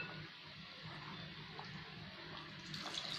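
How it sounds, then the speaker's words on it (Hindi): Water poured into a pan of egg and potato curry on the stove: a quiet, steady trickling stream that runs continuously without talk. "अंडे डालने के बाद जो है इसमें हम और 1/2 कप पानी ऐड करेंगे।"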